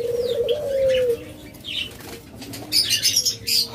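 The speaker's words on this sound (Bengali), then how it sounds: "এছাড়াও রয়েছে অসংখ্য পরিমাণ ঘুঘু পাখি।" Doves taking off with a burst of loud flapping wings, close by, alongside soft coos and scattered chirps from a flock of pet birds.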